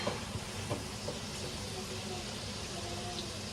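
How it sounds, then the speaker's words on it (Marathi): Potatoes fry in a pan with a continuous, fairly faint crackling sizzle and a few small pops, steady throughout in a home kitchen. "आता मी फ्राय करते बटाटा"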